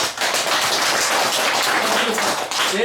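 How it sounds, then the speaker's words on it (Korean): An audience breaks into dense applause for a guest introduced at a Buddhist panel discussion, a loud, continuous roar of many hands clapping together, close and filling the room without letup. "박수 한번 보내주십시오"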